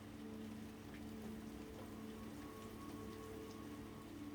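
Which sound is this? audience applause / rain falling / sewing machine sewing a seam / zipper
rain falling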